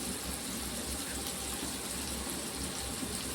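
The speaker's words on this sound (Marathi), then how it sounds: "याच्यामध्ये आपण थोडंसं अर्धा इंचीचं घ्यायचं पाणी" Water pours into a cooking pot of masala for a pigeon-pea dal with drumsticks, a steady close rushing splash that stays even from start to finish.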